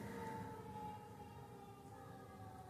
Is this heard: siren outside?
yes